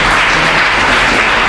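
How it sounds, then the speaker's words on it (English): Audience at an African Nations Quiz event at Gambia College in Brikama applauds steadily and loudly as a speaker comes to the podium, a dense continuous wash of many hands clapping with no voices. "Please let's give him a round of applause as he comes to the podium."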